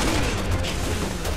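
Rapid gunfire from a shooter video game, Resident Evil 6, in a dense continuous burst of loud shots filling a short stretch, with no talk over it.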